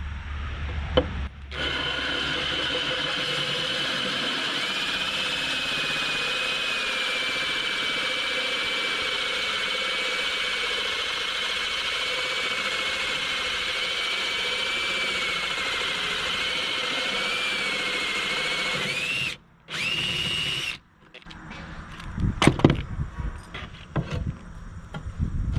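A power drill bores a hole through wet shower-wall tile, a steady loud grinding whine running continuously for about eighteen seconds, then stopping briefly before scraping and clattering sounds close by.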